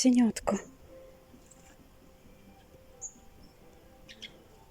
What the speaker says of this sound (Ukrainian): Маленьке пташенятко.